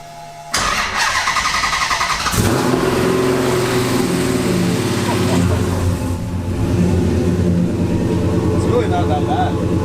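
A car engine cranks and fires up, then settles into a loud, raspy idle with a brief rev, the near straight-pipe exhaust droning steadily.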